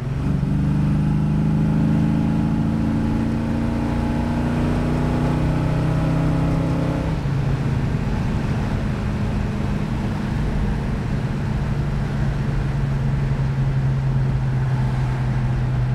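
A 1968 Dodge Super Bee with a 440 engine driving at speed, loud and close, a steady droning engine note that drops in pitch as it shifts partway through, then holds a lower hum with no talk.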